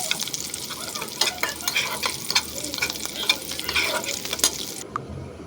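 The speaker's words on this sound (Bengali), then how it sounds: "আমি এখানে কিছু পেঁয়াজ ভেজে নিব।" Onions fry in a pan for a jackfruit seed mash, a close, even sizzle broken by repeated crackling scrapes of stirring, with no voices over it.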